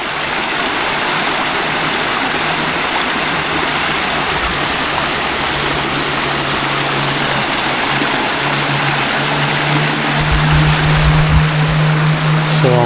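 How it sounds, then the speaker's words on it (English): A stream rushes steadily over rocks beside a woodland trail near a small waterfall in Shenandoah National Park, a broad continuous wash of flowing water close by, with a low hum building near the end. "So I'm guessing that's our waterfall."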